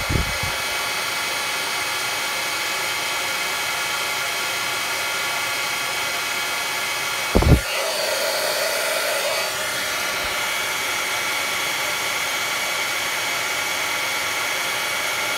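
Heat tool blowing steadily to melt embossing powder on a card, a loud continuous whooshing roar throughout, with a short thump around the middle where the airflow shifts.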